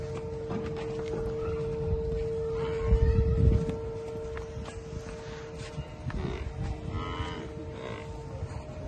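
A buffalo at a dairy farm, one of several milking buffalo offered for sale, lets out a deep, drawn-out moo that swells loudly near the middle, with other low farm noises and faint background sounds around it.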